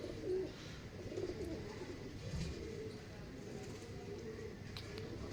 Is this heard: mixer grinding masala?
no